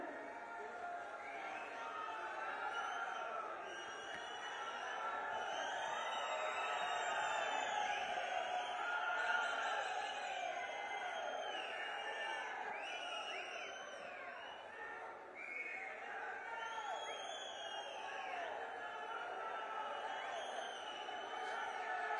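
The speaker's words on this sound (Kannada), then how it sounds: "ಚಪ್ಪಾಳೆಗಳ ಮುಖೇನ ಸ್ವಾಗತಿಸಿ ಬಂಧುಗಳೇ" A large political-rally crowd welcomes Chief Minister Siddaramaiah with a sustained roar of voices and cheering, dense and steady for the whole stretch with whistles and shouts rising above it.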